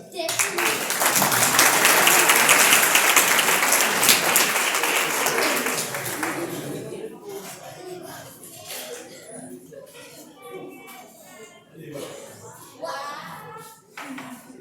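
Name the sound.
audience applause at a chemistry science show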